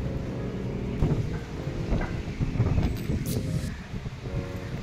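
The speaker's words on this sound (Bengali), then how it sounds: "আজ না প্রচুর বাতাস আছে।" Strong wind gusts at about 31 km/h roar steadily near a long suspension bridge in Mishima, Japan, buffeting the microphone with a low rumbling rush that swells and eases throughout.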